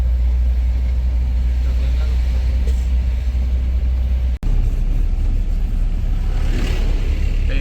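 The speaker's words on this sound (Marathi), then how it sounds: "सर्व ह्या ज्या गाड्या आहेत सर्व वारकरी बांधवांचे" Vehicles of pilgrims heading from Taradgaon toward Phaltan pass along a crowded road, with a continuous loud low rumble of engines and traffic, and voices audible beneath it.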